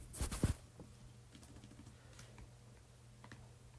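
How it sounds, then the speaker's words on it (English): A computer keyboard clicks near a microphone: a quick burst of a few louder keystrokes at the start, then sparse, faint taps over a low steady hum. "wonder if the mic is picking up the keyboard sounds"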